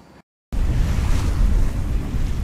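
Sea waves and wind rushing past a sailboat heading out of the Schlei under autopilot with the motor off, a broad steady wash following a brief dropout at the start.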